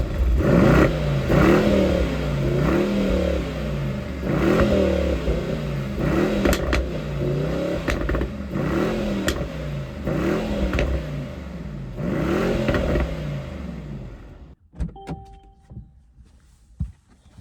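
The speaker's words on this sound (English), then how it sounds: "This engine, when you rev it out, sounds like a mixture between World War II and NASCAR." A Mercedes-AMG E63 Wagon engine revs repeatedly, loud, close bursts rising and falling in a steady pattern of about eight pulls, then cutting to near silence with a few faint clicks at the end.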